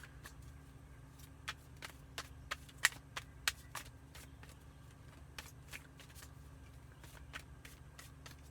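Clarifier cards being shuffled for a card reading: faint, irregular riffling clicks and snaps scattered across a quiet background, with no one talking.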